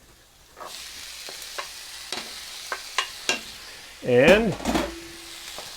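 Beans stirred into softened onions in a frying pan, with a low sizzle running throughout and a series of sharp spoon taps and scrapes against the pan, followed by a louder stirring burst; someone speaks briefly.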